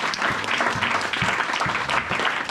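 Church congregation clapping in a dense, sustained burst of applause that fills the room evenly from start to finish, with a few faint voices mixed underneath.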